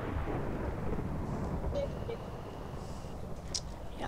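Thunder rumbles through a PvP video game map to mark a player's death, a low continuous roll filling the whole stretch with faint high clicks on top.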